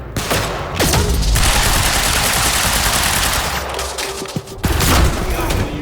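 Rapid bursts of gunfire from the video game Quantum Break, loud sustained automatic fire with sharp individual shots cutting through, pausing briefly before resuming near the end.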